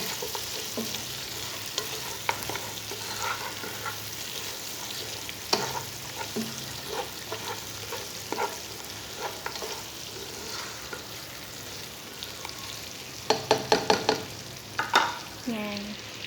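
Kabuli pulao stirred in a pan, a steady low sizzle under repeated scraping and clacking of a spoon, with a brief cluster of louder scrapes near the end.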